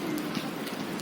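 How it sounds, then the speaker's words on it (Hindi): Heavy monsoon rain pours down steadily outdoors, a dense, even wash of drops drumming on surfaces, close and loud, with no speech. "कितनी तेज बारिश है ना"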